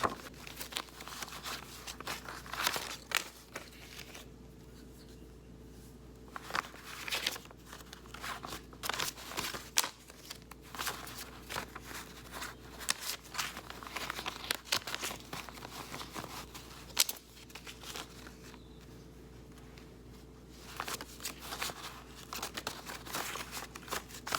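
Paper cash bills and budget envelopes are handled and stuffed, giving intermittent soft rustles, crinkles and flicks up close over quiet room tone, with no speech.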